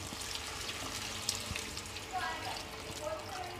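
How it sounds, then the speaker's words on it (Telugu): Water runs and splashes steadily into a pot of crab curry with salt and chili, a soft continuous pour with faint gurgling, heard alone at moderate volume. "ఇప్పుడు వాటర్ యాడ్ చేసుకుందాం"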